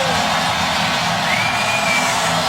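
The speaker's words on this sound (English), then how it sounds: "And finally, this crowd has risen to its feet." The home crowd in a football stadium roars steadily for the Saints, a dense, sustained wall of cheering and whooping with a whistle rising above it.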